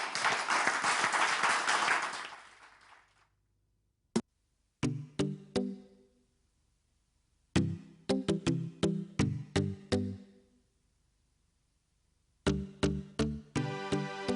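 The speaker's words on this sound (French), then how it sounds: "Mesdames et messieurs, on applaudit Alicia." A burst of crowd applause at the start fades out, followed by sharp, spaced percussive hits in loose clusters.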